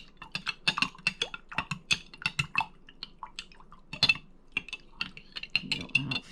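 A spoon stirs honey into hot elderberry syrup in a pot, making quick clinking taps against the sides in an uneven rhythm. The sound is close and fairly quiet, with no talk over it.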